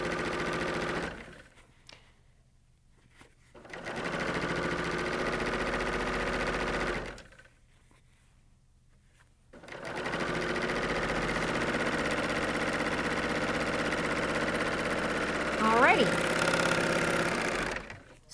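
Coverstitch serger machine stitching strips of fabric, three runs of steady rapid mechanical chatter separated by pauses, close and loud.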